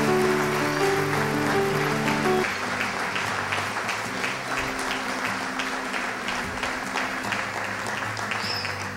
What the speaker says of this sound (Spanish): brindamos, por favor, un fuerte aplauso para todas las damas presentes